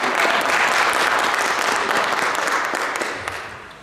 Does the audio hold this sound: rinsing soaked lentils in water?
no